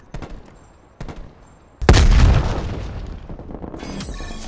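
A frag grenade goes off in Call of Duty: Black Ops Cold War during a Search & Destroy match, a heavy boom after a couple of faint thuds, with a debris tail fading over game noise.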